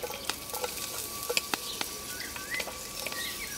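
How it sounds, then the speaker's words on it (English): Onion frying with garlic and ginger in a pot over an open outdoor fire, a steady close sizzle with scattered stirring clicks and faint birdsong in the background. "And now we can add the onion."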